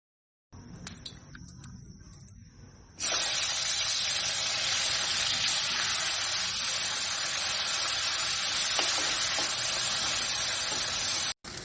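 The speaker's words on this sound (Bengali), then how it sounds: "আমার মাছ লাল লাল করে ভাজা হয়ে গেছে।" Bata fish fries in a wok: after a few quieter seconds, a loud, dense, even hiss of hot oil starts abruptly and runs unbroken until it cuts off near the end.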